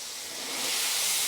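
Water poured into a hot wok of stir-fried ginger, garlic and pickled chili for a golden-broth fried pork soup, giving a brief, close, swelling hiss of steam that grows louder and holds.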